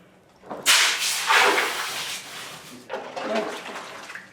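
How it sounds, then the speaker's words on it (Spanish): A cherry-red hot copper sheet, being made into a handmade cauldron, is plunged straight into water, giving a sudden loud hissing sizzle that fades and then returns in a second softer burst. "llega el momento de darle el temple introduciéndola directamente en agua"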